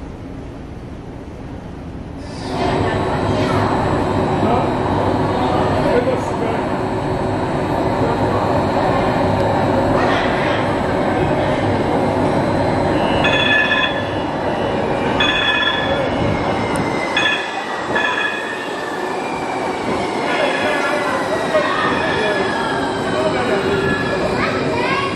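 A San Francisco Central Subway train rumbles loudly along the tracks toward Chinatown, wheels squealing and clicking at intervals, with indistinct voices in the carriage.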